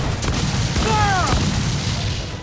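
Booming gunfire volley on a noisy battlefield after a fire command, a couple of dull broadband shots over constant rumbling noise, with a brief shouted voice in between.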